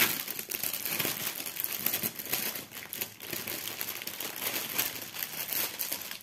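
Plastic wrapping on a cross-stitch kit crinkles and tears continuously as it is opened from the side, loud and close, with no speech.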